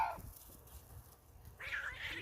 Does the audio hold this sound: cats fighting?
yes